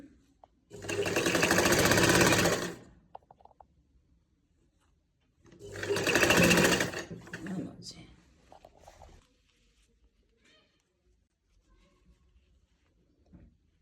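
A sewing machine stitches a sleeve onto a shirt (kameez) in two close, steady bursts of whirring needle action, each about two to three seconds long, followed by quieter cloth handling.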